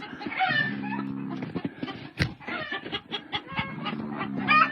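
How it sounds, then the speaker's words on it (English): Several chickens cluck and squawk nearby in agitated bursts, overlapping one another, with a sharp click partway through. "That's two of our new chickens."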